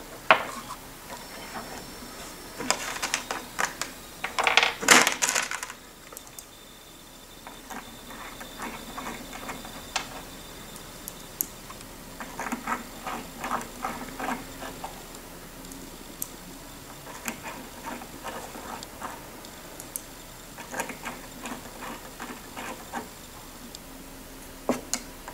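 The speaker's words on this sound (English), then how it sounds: "We're going to start out by putting these ball screw nut mounts onto the ball screw nuts." Metal ball screw nut mounts being fitted onto ball screw nuts, with light clinks and clatters of parts and repeated runs of small ticking clicks as pieces thread or seat, close and fairly quiet.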